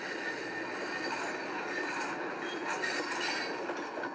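Steady rumbling of a train car over rails in a train and rail yard simulator game, a constant low roar with faint rattling and clinks, no talking.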